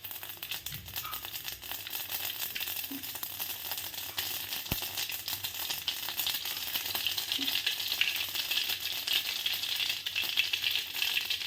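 Cumin and mustard seeds sizzle and crackle steadily in hot frying oil, a continuous bright hiss with occasional small pops, close and moderately loud throughout with no talking.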